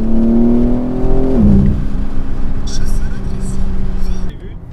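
BMW M4 Competition engine with forced intake, a loud sustained rev that drops sharply and settles into a steady drone with gear-like tonal whine, close and dominant throughout.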